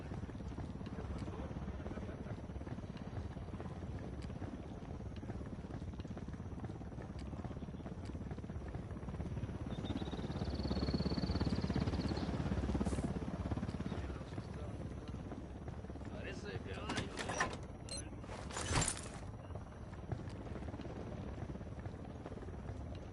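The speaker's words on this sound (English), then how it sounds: "Chopper's approaching." Helicopter in the video game Ghost Recon Wildlands, a low rotor rumble that swells toward the middle as the chopper draws closer, mixed with game ambience and a few sharp bursts near the end, voices talking over it.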